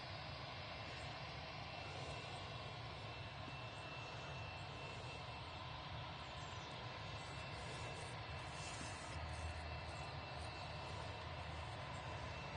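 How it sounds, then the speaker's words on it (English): An RAF Envoy IV aircraft with its engines running after start-up on the airfield as it enters the runway, a continuous broadband engine roar that stays faint and distant throughout with no talk. "he's just started up again, so he's just entering the runway now"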